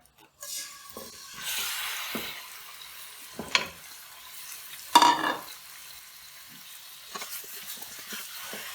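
Chicken pieces sizzling in a hot pan over a medium flame, a steady frying hiss broken by several sharp stirring scrapes and clinks of utensil against metal.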